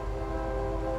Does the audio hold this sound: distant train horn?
yes